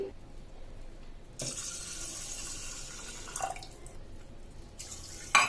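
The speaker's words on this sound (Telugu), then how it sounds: "ఇక్కడ నేను 2 గ్లాస్ వరకు వాటర్ వేసాను." Water is poured onto washed rice in two separate splashing bursts into a container, with quiet pauses between and a brief clink at the end.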